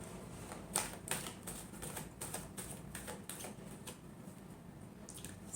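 Tarot cards are shuffled by hand in a quick series of soft riffling flicks and taps, close but quiet, in an even rhythm that trails off toward the end, with no voices.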